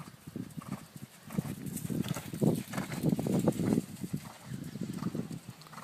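Steady rhythmic hoofbeats of a ridden horse in a working trot, close by, with a regular two-beat clip-clop pattern and no talking.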